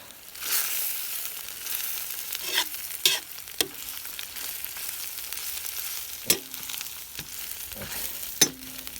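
Chunks of pork shoulder stewing and sizzling in a pot for Cossack kulish, with steady frying hiss and a few scattered scrapes and clinks of a spoon stirring, fairly close, no talking.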